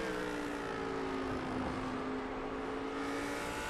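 An Audi race car engine in the iRacing video game at Sebring holds a steady, droning tone with a slowly shifting pitch, faint and continuous with no talk over it.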